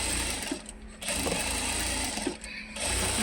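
A sewing machine runs steadily and close by, stitching the side fitting of a ready-made top, with two brief pauses in the whirring and no talking.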